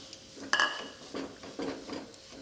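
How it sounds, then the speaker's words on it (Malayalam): Beef added to a masala in a pan and stirred, with a sharp metal clank of utensil against the pan followed by several softer scraping stirs over a low sizzle. "ഇനി ഇതിലേക്ക് ബീഫ് ഇട്ട് കൊടുക്കാം കേട്ടോ."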